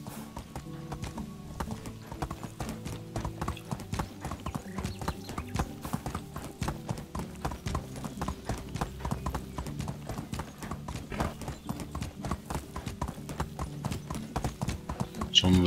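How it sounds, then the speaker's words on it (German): Hoofbeats from a horse ridden across open country in the medieval game Medieval Dynasty, a brisk, steady clip-clop rhythm that runs unbroken and fairly quiet under low background music. "dann reiten wir über Gostovia"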